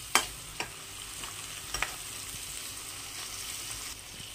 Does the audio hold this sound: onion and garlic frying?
yes